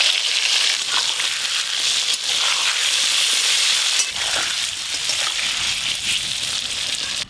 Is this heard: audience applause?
no